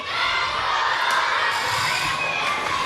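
Tournament crowd in an arena cheering and shouting for the Cowboys, with many young voices: a loud, steady wall of cheers that holds without a break, with a few sharper shouts rising above it.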